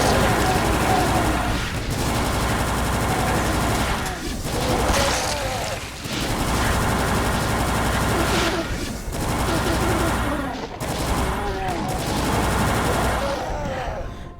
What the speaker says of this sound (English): I should probably use the plasma rifle here to deal with them quickly